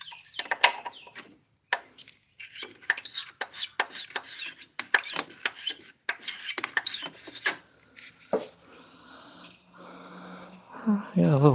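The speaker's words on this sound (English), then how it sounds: "I need my little scraper here." Small hand scraper working on a BMW E36, short rasping scrapes in quick irregular strokes, close and fairly quiet, with a person talking in between.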